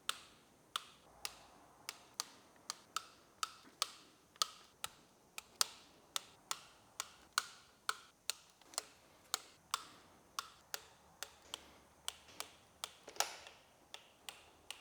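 Exhaust manifold nuts on a BMW F10 engine being torqued to spec: a long regular series of sharp ratchet ticks, close and fairly quiet, about two or three per second with no talking.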